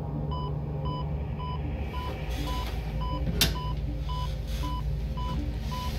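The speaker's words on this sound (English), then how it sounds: "we're back at the beeping again." Repeated electronic beeping from the video game The Bunker: a steady, evenly spaced train of bright tones over a low background hum, with one sharp click midway.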